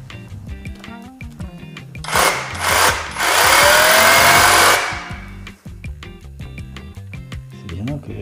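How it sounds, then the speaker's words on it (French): A Parkside PKHAP 20-Li B2 20V cordless rotary hammer in hammer-drill mode bores into stone, sounding as a loud rattling burst, a short pause, then a sustained roaring drill run of a couple of seconds, with talk before and after. "Donc j'ai mis en perfo avec percussion. Et on va faire 4 trous dans de la pierre."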